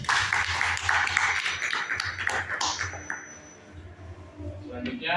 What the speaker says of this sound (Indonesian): Beri tepuk tangan untuk presentasi dari kelompok 3.